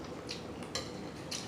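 A metal spoon clinks against dishes during a meal of ribs, curry shrimp and rice, giving a few separate bright taps over a low steady background.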